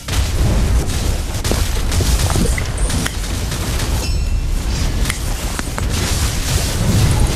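Loud, continuous booming and blasting of cannon fire and explosions in a Black Desert Mobile node war battle, dense and unbroken for several seconds.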